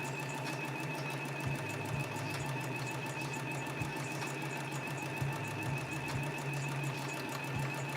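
A sewing machine runs steadily at home, its needle producing a fast continuous mechanical whir with faint periodic thumps, constant level throughout and no talking.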